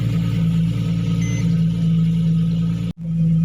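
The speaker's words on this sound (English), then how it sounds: "Let's see, the car will start now. Huh? Okay, here we go. Straight away, no problem." A Porsche 997/987 engine, just back from a slow-crank hard-start repair, idles with a steady low hum and a faint whine, briefly dipping out near the end before settling again.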